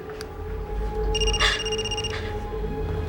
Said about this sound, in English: It's your cell phone.